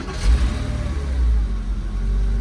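A Porsche Boxster engine idles with a steady, even low rumble and a slight revving swell near the start, close by.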